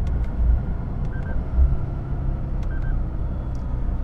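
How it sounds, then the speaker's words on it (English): A 2008 Lexus IS F on the road, heard as a steady low engine and road rumble from inside the car with brief bumps of downshifting, and no talk. "This thing does downshift pretty good."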